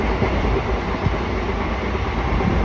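Interior of a moving passenger train on a route toward Lucknow, with a steady loud rumble, wheel noise and faint rhythmic clatter filling the carriage throughout.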